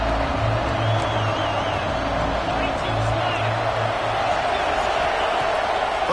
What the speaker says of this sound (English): The Red Raider crowd rising to the occasion to help its defense on 3rd down.